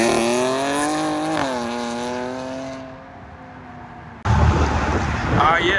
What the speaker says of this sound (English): Here we do have the supercharged V6 Challenger.